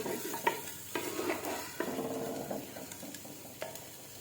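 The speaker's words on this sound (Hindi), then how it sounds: "इसको अच्छी तरह मिक्स करेंगे और भूनेंगे, साथ साथ भूनते रहेंगे।" A spoon works through a kadhi mixture frying in a pan, with repeated scraping strokes in an uneven rhythm over a soft, continuous sizzle, close and fairly quiet, without speech.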